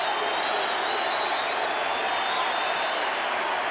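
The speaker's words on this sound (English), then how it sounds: "And the crowd love it." Stadium crowd at a 1988 rugby league match between the Brisbane Broncos and Manly Warringah roaring after a try, a dense, steady wash of cheering and applause with no break.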